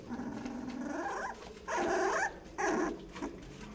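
Young puppies, eyes newly open and starting to walk, whimper and growl softly in close, overlapping bursts of high whining cries, with a few louder rising yelps toward the end.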